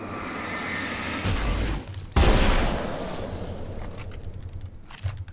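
Gunshots ring out in the survival-horror game Alan Wake: American Nightmare, with two loud cracks a second apart followed by a heavier burst of fire and a decaying rumble against a steady ambient bed, with no talking.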